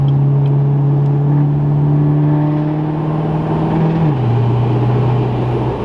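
A Duramax diesel pickup truck, heard from inside, pulls hard under acceleration with a loud, steady engine drone. About four seconds in, its pitch drops sharply with the downshift, then holds at the lower note. No one talks.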